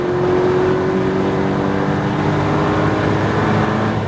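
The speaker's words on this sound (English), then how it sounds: "squeeze back on that throttle all the way to full power. Upshift" Porsche Cayman GTS engine pulling hard at full throttle on a SpeedVegas track, a loud, close, steady roar with rising harmonic tones and a brief shift step partway through.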